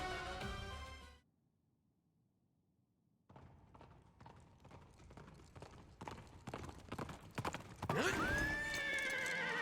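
In the video game Fire Emblem Engage, rapid hoofbeats clatter after a brief silence, building into a galloping clip-clop, then a horse neighs loudly near the end.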